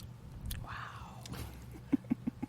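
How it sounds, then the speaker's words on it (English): Chewing gum close to a microphone, soft wet mouth sounds, then a run of four quick, crisp chomps near the end, with faint breathy voice sounds earlier. "Oh, because I keep chewing."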